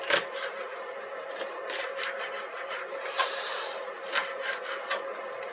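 Red peppers being rough chopped with a knife on a cutting board, a steady run of close, crisp scraping and tapping cuts with a few sharper knocks, with no talking.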